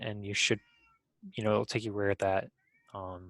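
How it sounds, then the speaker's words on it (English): A house cat meows several times, loud and close, over and between a person talking. "Sorry if you can hear my cat meowing."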